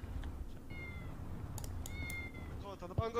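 A ginger cat in the video game GTA V meows several times, ending in a rising, drawn-out cry, heard close over background chatter and voices.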